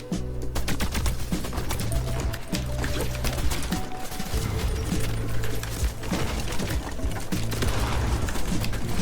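Rapid gunfire in the Fortnite video game, near and loud, with dense bursts of shots and booms running continuously throughout.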